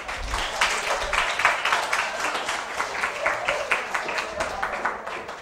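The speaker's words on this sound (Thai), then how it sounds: "ปรบมือให้กับตัวเอง" Students in a classroom clapping for themselves, a moderate, sustained patter of many hands at middling distance, with talk underneath.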